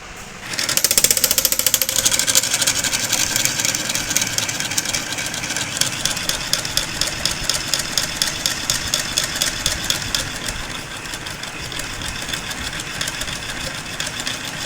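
An electric motor drives a rotating cam and follower in a cam jump test rig, giving a steady mechanical whir with a fast, regular ticking and knocking pulse that continues throughout, close and moderately loud.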